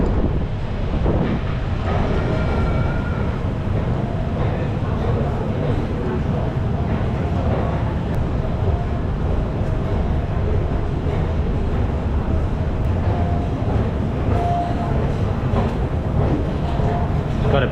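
A train passes at a station in Glasgow, Scotland, a steady loud rumble and rush of wheels and air with wind noise on the microphone, lasting throughout.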